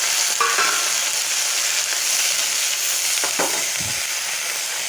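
Curry leaves fry in a pan with onions and green chillies, a steady loud sizzle with a few brief stirring scrapes, no talking.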